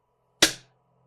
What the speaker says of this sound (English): I let the trigger go.